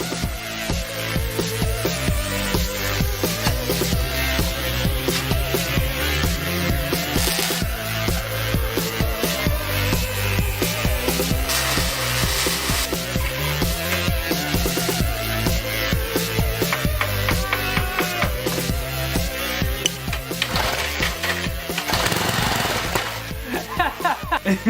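An old junk engine runs continuously, rattling loudly like a bag of nails with a harsh, steady metallic clatter that keeps going the whole time, with a voice heard over it.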